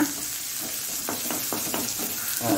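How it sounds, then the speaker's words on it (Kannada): Green chilli and onion with cumin stirred in a hot pan for jowar upma, a steady sizzle of frying broken by several scraping strokes of a spoon against the pan. "ಕಾಯಿ ಮೆಣಸು, ನೀರುಳ್ಳಿ, ಒಳ್ಳೆ ಮಿಕ್ಸ್ ಕೊಡೋಣ."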